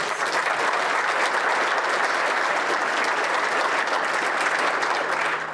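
Audience at an economic development corporation's annual meeting applauding, a steady, even roar of many hands clapping throughout, moderately loud with no talk.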